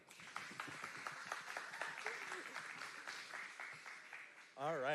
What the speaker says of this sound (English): Let's give a round of applause for Solomon.